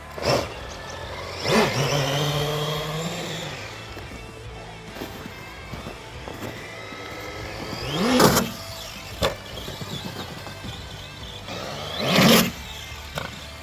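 A Traxxas Stampede 4x4 VXL RC car drives nearby, its electric motor whining in rising and falling bursts, with occasional sharp bumps and scrapes between runs.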